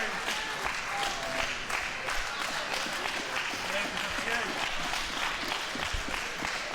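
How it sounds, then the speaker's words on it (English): Wrestling crowd at a live event keeps up steady cheering and applause throughout, a dense continuous roar with a commentator talking over it. "Crowd getting back behind Kip Sabian."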